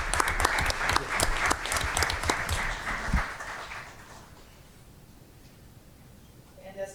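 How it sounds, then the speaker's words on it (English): Audience applause at a school board meeting, a burst of dense clapping for about three seconds that quickly thins out and fades to quiet room tone, with a faint voice at the end. "How about a round of applause?"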